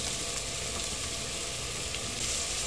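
Potato, carrot and peas fry in a pot with a steady, even sizzle that hisses continuously at moderate volume, with no voices over it.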